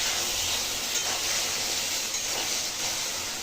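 Okra frying with turmeric in a pan gives off a steady, soft sizzling hiss with no other sounds.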